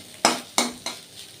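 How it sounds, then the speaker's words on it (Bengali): Three sharp clanks of dishes and rice pots being washed and stacked, spaced evenly about a third of a second apart, close and clear with nothing else in the background. "এদিকে যে বাসন বেরোলো আরও কটা, ভাতের হাঁড়ি টাড়িগুলো, সেগুলো ধুয়ে গুছিয়ে নিই।"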